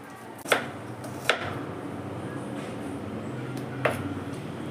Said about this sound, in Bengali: এবার আমি পেঁয়াজটাকেও কেটে নেব।